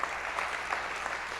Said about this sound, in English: Can we give God a round of applause for that one?